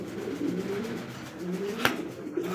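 A black Bombay pigeon coos softly in low, repeated rolling calls, fairly quiet and close, with a sharp click near the end.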